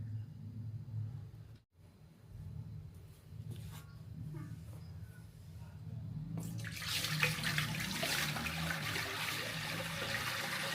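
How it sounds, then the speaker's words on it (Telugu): Water pours into a new 24-litre goldfish tank as a steady, close splashing rush. It starts low and then grows brighter and louder in the second half, with no talk. "ఇప్పుడు వాటర్ ఫుల్గా అందులో పోసేయాలి."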